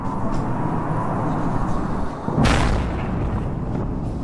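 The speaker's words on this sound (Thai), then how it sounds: "เสียงระเบิดจากการโจมตีในกาซายังดังขึ้นอย่างต่อเนื่องนะครับ" Explosions from attacks in Gaza: a heavy, continuous low rumble with one sharper, louder blast about midway, followed by a long fading roll.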